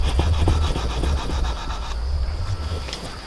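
Rubbing and scraping to clean dried excess fertilizer residue off the surface of a bonsai pot, a steady close-up friction sound with rasping strokes, alone without talk.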